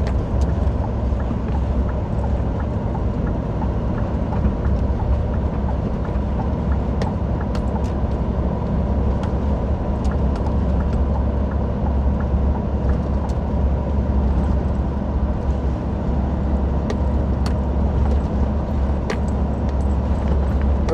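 An automatic R440 truck drives along a mountain road near the Serrinha do Palmital, its engine a steady, loud, low drone heard from inside the cab with light rattles and no talking.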